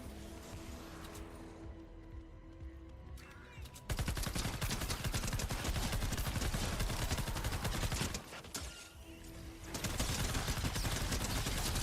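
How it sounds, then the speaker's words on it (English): Assault rifle gunfire in Fortnite Save the World roars in dense, continuous automatic bursts, loud and close, with a brief lull in the middle before firing resumes. "I'm forced using the assault rifle."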